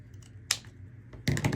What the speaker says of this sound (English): we're gonna go ahead and cut off where this was folded